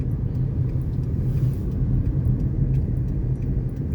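A car drives steadily at a vehicle registration office in Sisaket province while turning around, a constant low engine and road rumble sounding close and unbroken with no talk.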